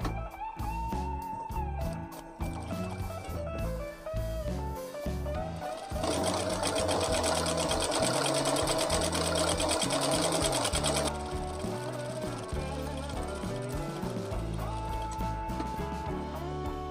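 Sewing machine stitching a suit collar with yellow thread along a marked line, a steady loud motor whir that runs continuously, briefly louder in the middle, with no talk over it.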